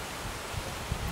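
Wind blows across an outdoor mini golf course, a steady close buffeting rush against the microphone with faint rustling.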